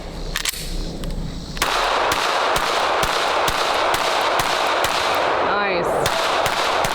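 A Springfield Hellcat Pro, a compensated carry pistol, fires a string of sharp gunshots, about a dozen at a steady pace, loud and close, after a brief spoken remark and rustle at the start.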